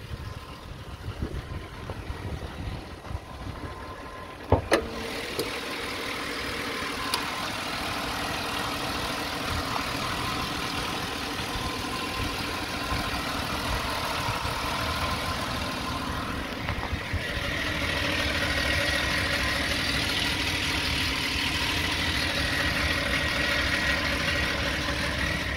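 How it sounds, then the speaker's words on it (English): A 2010 Ford Explorer idles steadily, with a continuous whirring from the transmission, likely the torque converter, riding over the low engine hum; one brief knock near the start, no talking. "that whirring noise is the transmission, probably the torque converter if I had to guess"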